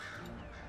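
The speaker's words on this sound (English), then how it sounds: "More of those little red-crested crows." Red-crested crows in the Dragon Age: Inquisition video game, a single brief, faint caw over a soft ambient background.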